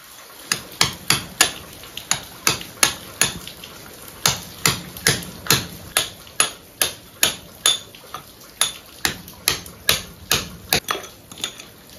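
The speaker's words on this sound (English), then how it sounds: "I'm just going to see if I can chip away a little bit of the threshold here to drain it out" A tool chips away at a barn door threshold, producing a series of sharp, close impacts in a fairly steady rhythm, about two strikes a second, with a brief pause midway.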